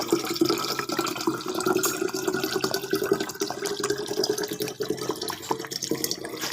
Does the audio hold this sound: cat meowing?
no